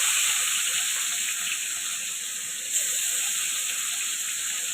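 Catla fish frying in hot oil for a kalia, giving a continuous bright hissing sizzle that stays steady and even throughout, with no talking.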